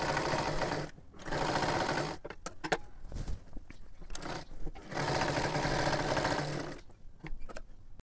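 A sewing machine stitches a salwar in several bursts: long runs of rapid, steady needle chatter broken by short pauses filled with clicks and fabric handling, then the motor picks up again.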